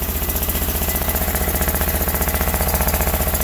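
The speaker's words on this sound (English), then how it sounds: "We're running on one cylinder." Sears Suburban loader with a 20 hp Briggs & Stratton V-twin engine running on one cylinder in cold winter weather, a steady, loud, uneven chugging with a pulsing knock throughout, close by and without speech.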